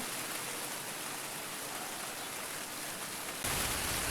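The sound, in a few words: rain falling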